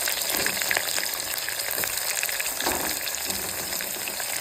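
Cashews and green chillies frying in oil for a simple rice bath, a close, even sizzle with soft bubbling bursts and stirring, no voices over it.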